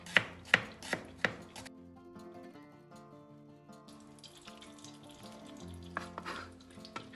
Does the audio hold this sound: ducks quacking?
no